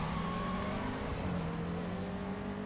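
Race cars in NFS Underground 2 accelerating off the start line, among them a Supra, a Lexus and a Mustang, a loud, dense engine roar with whining tones that sustain steadily, close and unbroken, no voices.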